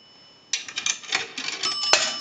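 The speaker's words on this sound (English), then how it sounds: "That rings the bell one time." A nickel rattles through the coin validator of an Automatic Electric three-slot payphone, and a single bright bell strike follows. The sound is close and metallic, with a short tonal ring.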